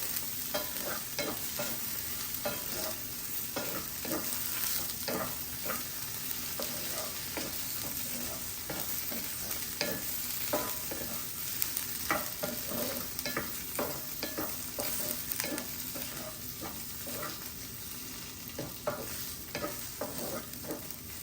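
Paneer pieces fry in a little ghee, a continuous soft sizzle with frequent scraping and stirring strokes of a spatula throughout, fairly quiet and steady.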